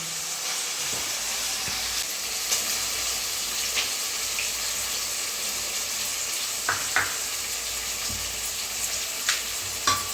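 Manathakkali berries, onion, tomato and garlic sautéing in hot oil for vatha kulambu, a constant bright hiss with scattered spatters and a few faint utensil taps, no voices.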